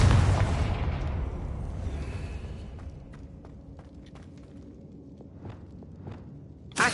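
A Confringo spell blast from the Hogwarts Legacy video game bursts loudly at the start and rumbles away into quiet, followed by soft footsteps and scattered taps, with another sharp hit right at the end.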